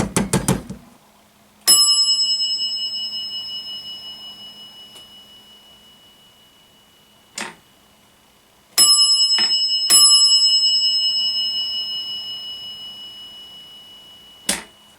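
An elevator car up indicator bell from a modernized parking-structure elevator, struck several times: bright ringing chimes that decay slowly, with dull mechanical clunks between strikes.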